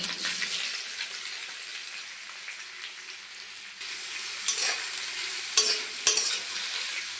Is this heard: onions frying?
yes